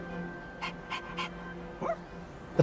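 Koromaru, the dog in the Persona 3 Reload video game, makes a few short breathy pants in a quick row over a steady game music bed, ending in a small yip-like sound.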